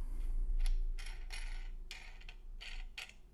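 Metal wing nuts being unscrewed from the clamp of an easel mahlstick, heard as a series of short, close metallic scrapes and clicks spaced irregularly over a low steady hum.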